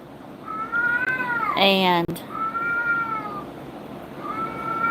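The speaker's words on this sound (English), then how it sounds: "now you're going to get to be serenaded by one of our cats" A house cat meows repeatedly up close, several drawn-out, rising and falling cries separated by brief gaps, one louder, more strained yowl in the middle, with a voice speaking briefly alongside.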